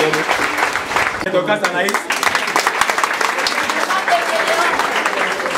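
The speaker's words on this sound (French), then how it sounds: "Acclamons le Seigneur." A church congregation claps and applauds steadily and loudly for several seconds to acclaim the Lord, with a voice speaking briefly over the applause.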